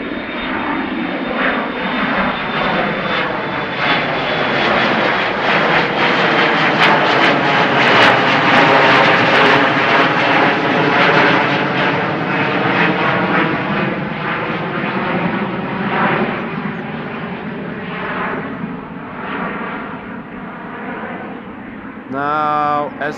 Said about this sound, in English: And in fact is already in the air. Embraer 175 KLM.